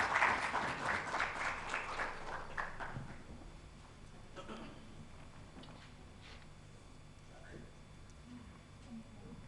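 An audience at a women's empowerment conference applauds, the clapping loudest for the first three seconds, then thinning into a faint, scattered patter that lingers in a reverberant hall.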